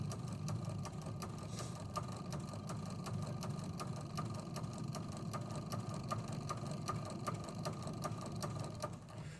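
A sewing machine stitching a T-shirt table runner runs continuously at an even pace, its rapid regular needle ticks forming a steady mechanical hum, close and alone without talk.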